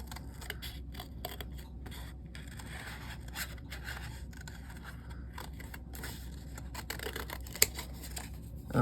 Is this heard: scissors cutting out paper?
yes